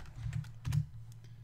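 Computer keyboard being typed on to enter a command in a Debian terminal, a quick cluster of a few soft, close keystrokes with no talking.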